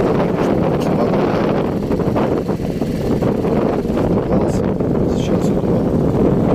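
Strong wind buffets the microphone on a choppy bay during a zander fishing trip, a loud continuous roar with gusts and faint water movement beneath, nobody talking.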